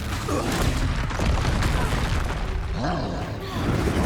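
A Confringo explosion spell blasts in Hogwarts Legacy, a loud, dense roar of booming bursts and crackle sustained throughout amid chaotic combat noise.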